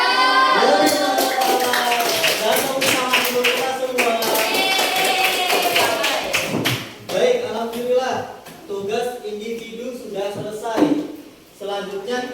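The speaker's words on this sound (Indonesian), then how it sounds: "Dan tepuk tangan dulu kita semua." An audience at an Islamic lecture on prayer and remembrance claps together in a burst of scattered applause, with voices and cheering mixed in, tapering off into a few separate claps.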